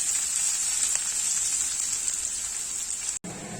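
Onion and potato fry in a pan with a steady, even sizzle and faint crackles, close and unbroken apart from a brief dropout near the end.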